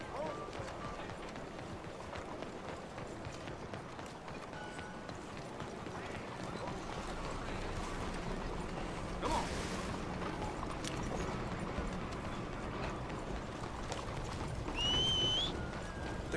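Horse hooves clip-clopping at a steady gallop in the Western video game Red Dead Redemption 2, faint and continuous over ambient game sound, with a whistle-like tone near the end.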